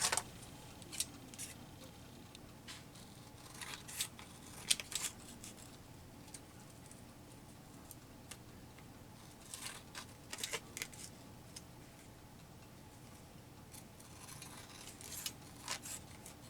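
Scissors cut an altered playing card in a quiet room, making a series of soft, intermittent snips and clicks with pauses between them.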